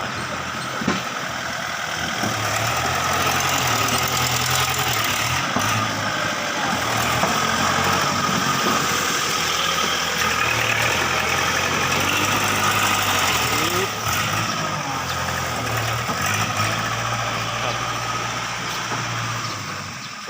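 A truck engine idles at a soil stockpile site, a steady low diesel rumble with a faint airy hiss throughout, with someone speaking over it now and then.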